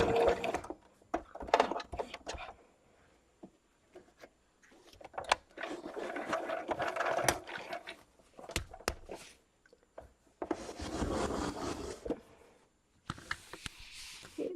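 A sewing machine stitching a fabric liner into a crochet bag, close, in several separate whirring runs of rapid needle chatter split by pauses with soft fabric handling.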